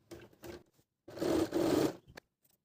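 A sewing machine stitching a palazzo seam runs in short bursts, first two brief runs and then a longer steady whir, close and fairly quiet with no talking.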